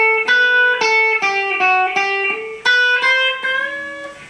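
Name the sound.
guitar solo scale run with a trill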